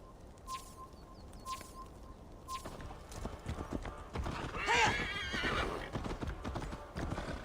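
Horse hooves clip-clop at a steady trot in the video game Assassin's Creed Valhalla, then a loud whinny rises midway with a few faint bird calls in the background.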